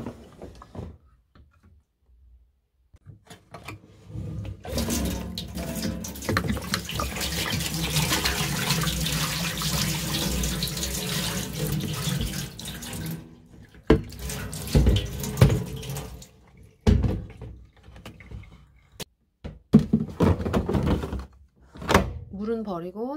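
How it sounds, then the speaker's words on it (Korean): Water from a clothes dryer's full collection tank pours into a sink, a steady loud gush lasting several seconds, followed by scattered thunks and handling noises. "물은 버리고 다시 넣어주세요."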